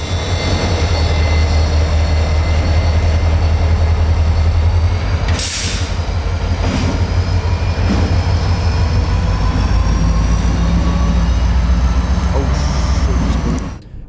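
A CSX freight train rolls through a rail yard at night, its heavy low rumble and grinding wheels loud and close and continuous, with a brief burst of metallic clanking midway.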